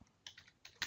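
Computer keyboard typing, a few quick faint key clicks in an irregular rhythm, close and alone.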